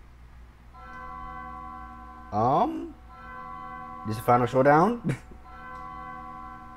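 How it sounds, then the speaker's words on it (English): Church bells ring in the Undertale video game, a steady tolling chime with sustained harmonic tones running through the scene under two short bursts of speech. "Okay, church bells are ringing."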